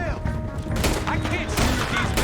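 Gunfire rings out during a shootout in the video game Red Dead Redemption 2. Several sharp, loud shots and booms burst in quick succession, layered with shouting voices and other game sounds.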